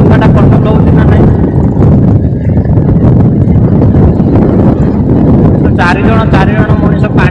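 A violent storm at Gauranga Patana batters a boat on the water, with heavy wind roaring and buffeting the microphone continuously, loud and close, as voices sound faintly beneath the gusts.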